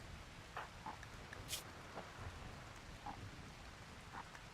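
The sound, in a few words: rain falling in the video game Rimworld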